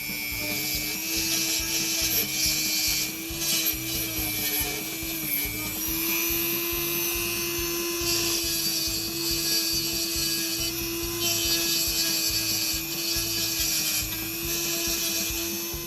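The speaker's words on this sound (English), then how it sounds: "I ground back the welds so that you can actually get the spring on there" Steady, continuous grinding on metal welds of a Honda ATC125M shift stopper, a loud close power-tool whine holding a constant pitch for the whole stretch with no talking.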